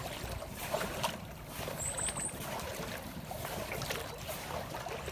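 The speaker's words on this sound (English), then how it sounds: "So I'm now just wading my way through to the weir" Wellies slosh and wade through deep floodwater, soft repeated splashing and swishing at a quiet level with light wind noise, no talking.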